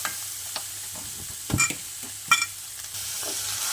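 Curry leaves and coriander frying in hot oil in a pan, a soft steady sizzle with a few brief louder crackles and stirring scrapes, close and with no voices.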